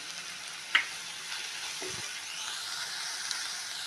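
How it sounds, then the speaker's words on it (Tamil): Steady sizzling of salted onions frying in a pan until golden for prawn gravy, with a brief clink of a stirring spoon near the start; no voices. "வெங்காயம் நல்லா பொன்னிறமாக நல்லா செவுக்கணும் வெங்காயம் வதங்குறதுக்கு உப்பு போட்டுக்கிறோம்"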